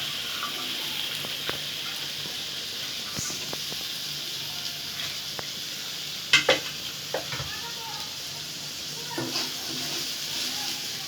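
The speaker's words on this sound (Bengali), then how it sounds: "এখন সেদ্ধ করে রাখা ছোলাগুলো দিয়ে দেওয়া হচ্ছে" Boiled chickpeas dropped into a frying pan and stirred, a continuous sizzle with scattered scrapes and a couple of louder clatters midway, close up and without talk.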